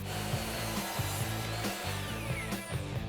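A power saw cuts a 33-degree miter through wood, a steady close grinding buzz with rhythmic pulses as the blade works through the board, with no talking.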